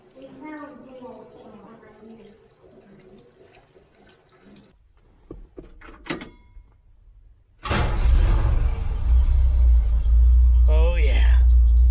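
Someone talks and handles things near a machine until, after gas is added, its engine suddenly fires up and settles into a loud, steady, close running rumble.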